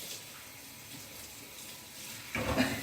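Water running from a tap, a soft steady hiss that grows louder and splashier toward the end.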